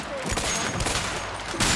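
Gunfire in the video game A Way Out, a dense volley of shots crackling steadily throughout, loud and close, with a louder burst near the end and a little speech mixed in.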